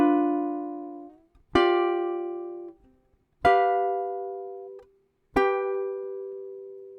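On ukulele, a passage from a song is played as four crisp plucked chords, each ringing out and decaying into near silence before the next. The playing is close and clean, with no one talking.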